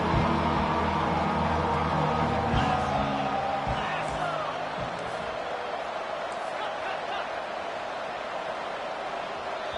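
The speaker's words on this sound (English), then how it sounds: "with this place rocking, the crowd forces a false start" A loud football stadium crowd roars during a third-and-goal play, heavy cheering that swells and then settles into a steady crowd din.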